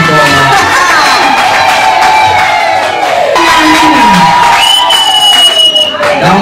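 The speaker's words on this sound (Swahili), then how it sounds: "Piga makofi kwa wanawake." A loud crowd cheers and whoops over continuous applause, with high shouting voices rising and falling throughout.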